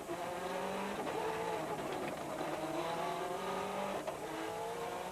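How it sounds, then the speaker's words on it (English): A Subaru rally car races hard through a rallysprint course at Punchestown, its engine note rising and falling steadily with tire squeal through oversteer, loud and continuous for the whole stretch. "It's hard work on this course as Ollie wrestles with the Subaru to keep it in line, but everybody loves a bit of an oversteer."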